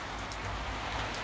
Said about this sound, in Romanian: Până la urmă chiar a plouat puțin și încă plouă.